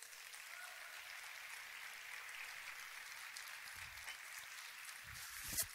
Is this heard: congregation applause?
yes